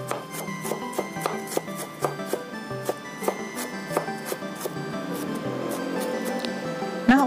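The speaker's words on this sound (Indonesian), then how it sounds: "Terus ini ada senjang atau jahe, ku iris cacah lembut" A knife chops ginger finely on a cutting board in a quick, steady series of sharp close taps, with faint speech in the background.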